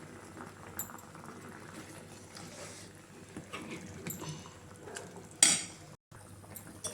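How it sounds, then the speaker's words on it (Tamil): A pan of chicken gravy bubbling at a low simmer, with occasional clinks of a utensil against metal and a brief clatter near the end. "தேவையான அளவு தண்ணி சேர்த்து கொதிக்க வச்சுடுவோம்"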